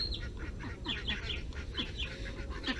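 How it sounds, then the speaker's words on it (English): Farm ducks quack repeatedly in quick, uneven bursts at moderate distance, several birds calling over one another against a steady outdoor background. "The ducks are already out."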